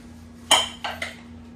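A utensil clinks against a bowl while lobster is mixed into cream cheese, one sharp knock followed by two lighter taps close by.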